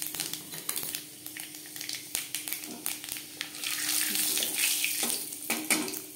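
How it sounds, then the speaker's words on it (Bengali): Panch phoron spices sizzle and spit in hot mustard oil, a close, bright crackling hiss with irregular pops that grows denser and louder midway. No one talks. "ফোড়নে দিয়ে দিলাম 5 ফোড়ন।"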